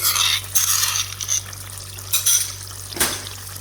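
Yogurt being stirred into a chicken pathia curry sauce over a low flame: soft wet swishing and occasional spoon knocks against the pan come in irregular strokes over a gentle background simmer.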